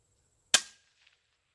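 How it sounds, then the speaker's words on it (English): A single rifle shot fired at a lime rock outcropping 412 yards away cracks sharply out of near silence and decays quickly, followed by a faint distant echo or impact. "I'm going to shoot one into the lime rock outcropping and see if I see something."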